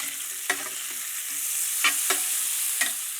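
Onion, potato and bacon frying and browning in a pan, a steady loud sizzle with a few scraping stirs of a utensil cutting through it.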